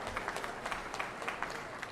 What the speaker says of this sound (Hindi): इसके लिए जोरदार ताली बजा कर स्वागत करना है